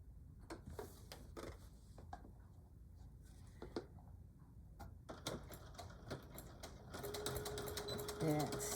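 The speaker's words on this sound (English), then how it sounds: "we're going to sew about 1/4 of an inch around each side" Sewing machine stitching quilt pieces for a Christmas quilt made from half-square triangles, heard as quiet, scattered mechanical clicks that turn into a denser run of stitching near the end.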